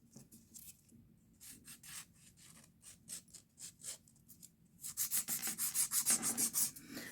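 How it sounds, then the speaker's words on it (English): Acrylic nails filed by hand, rhythmic scratchy rasping strokes close up, quiet and spaced at first, then faster and louder toward the end. "this hand filing because when I did this set, it was on a hand filing video."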